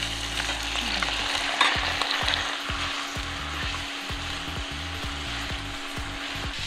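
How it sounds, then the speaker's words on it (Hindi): Chicken pieces hit hot browned onions in a pan for a spicy Indian curry, giving a steady loud sizzle with a burst at the drop, then rhythmic scraping strokes of stirring throughout. "अब इसमें डाला जाएगा चिकन।"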